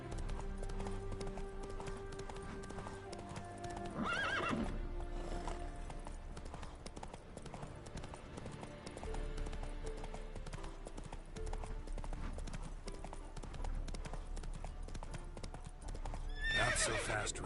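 A horse in a video game gallops with steady clip-clop hooves throughout and lets out two clear whinnies, one near the start and one near the end, with faint game sounds underneath.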